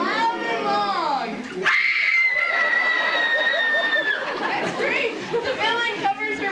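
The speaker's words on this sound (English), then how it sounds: "She screams loud and long." A woman in a family reunion skit lets out a loud, long, sustained scream, with chatter and laughter from others around it.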